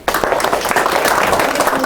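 Audience applause welcomes a professor at a lecture on Northeast Asian affairs and Goguryeo history, dense steady clapping from a crowd lasting about two seconds.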